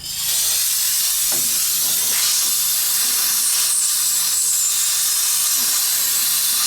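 Close, steady hiss of compressed air directed at the engine bay of a 1969 AMC Javelin with a 290 engine, continuous and fairly loud throughout with faint clicks and shifting underneath.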